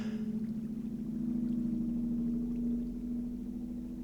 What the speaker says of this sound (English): Well, hello, truck coming down my street.